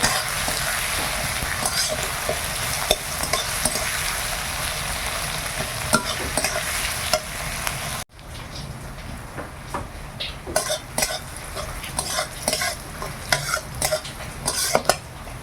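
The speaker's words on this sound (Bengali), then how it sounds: "পেঁয়াজটা খুব সুন্দর ভাজা হয়ে গেছে" Onions with tomato and salt sizzle steadily in a pan while being stirred. The sizzle drops abruptly midway, then scraping stirs and light clinks of the utensil against the pan follow over a quieter fry.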